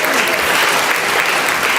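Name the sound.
audience applause for award nominees and winners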